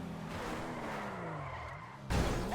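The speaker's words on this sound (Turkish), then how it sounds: "Çok güzel ötüyor bu araba" A car in Grand Theft Auto V revs and skids, its engine tone sliding down before a louder burst of tire noise near the end, with no talk over it.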